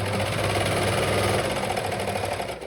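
Sewing machine running steadily while stitching a stretched boxer waistband in stretch fabric, a continuous close, loud motor whir with rapid needle rhythm that slows slightly at the end.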